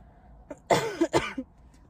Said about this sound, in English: I still have a little bit of cough left